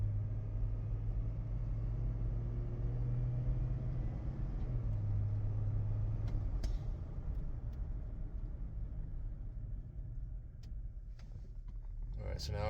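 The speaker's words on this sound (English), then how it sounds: "so now I drive for 5 minutes without brake usage" A GMC Envoy with freshly changed brakes driving along a road, giving a steady, loud low-frequency engine and road rumble throughout, with a faint tonal hum early on and a brief clatter near the end.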